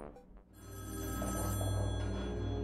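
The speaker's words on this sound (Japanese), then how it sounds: "電話に出る。" A telephone rings in the Splatoon 2 Octo Expansion video game, a steady electronic ringing tone that swells after a brief dip and holds loud over game music to the end.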